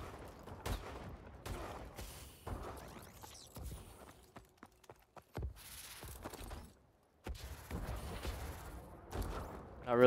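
Sniper rifle shots crack out in a video game, several sharp isolated bangs spaced irregularly amid quiet, faint game sounds.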